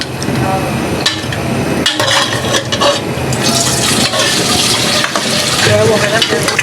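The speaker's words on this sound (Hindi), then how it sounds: "कढ़ाई के अंदर हम गोश्त को डाल लेंगे, जो हमने गोश्त को अभी उबाला है।" Boiled beef pieces tipped into a hot wok for smoky yogurt beef curry, giving a loud, steady sizzle and frying crackle with stirring scrapes throughout, no voices.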